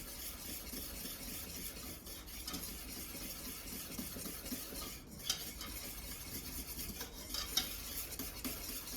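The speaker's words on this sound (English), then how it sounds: "we're going to beat that until it's free of all lumps" Batter is beaten steadily by hand as flour is worked in until smooth, a continuous close-up scraping and stirring with occasional clinks of the utensil against the bowl and no talking.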